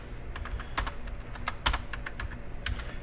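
Code is typed on a computer keyboard: close, rapid keystrokes in uneven bursts with a few louder key clacks, over a low steady room hum.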